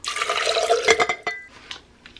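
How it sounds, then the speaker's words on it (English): Water pours into a blender holding almonds, a close splashing gush that thins into a few trickles and drips before falling quiet. "Now we're gonna pour it into my blender."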